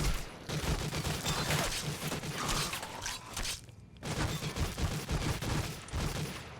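Heavy sustained gunfire in a Fallout video game firefight, dense crackling bursts and mechanical clatter running almost without pause, broken by one short gap, loud and close with no talk.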